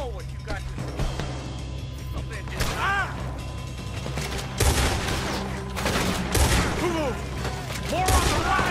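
A gunfight in Red Dead Redemption II, with bursts of shots over a steady low rumble and mechanical clatter, fuller volleys near the middle and end, while voices shout over the fighting.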